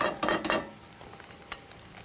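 Bread with egg frying in a pan is turned over: a few quick, close scrapes and a soft sizzle at the start, then a quieter hiss.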